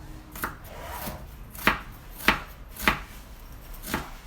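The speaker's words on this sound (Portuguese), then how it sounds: "Como que eu vou cortar essa cebola? Vou cortar ela bem laminadinha" A knife slices an onion thinly on a cutting board for a shimeji and vegetable dish, giving five or six crisp, evenly spaced chops close up and fairly quiet, with no talking.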